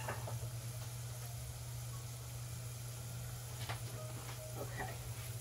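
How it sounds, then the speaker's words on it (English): Steady, soft sizzling of a veggie spring roll wrapper frying in hot oil, with faint crackles and pops scattered throughout and no voices. "frying that wrapper and getting it nice and crispy"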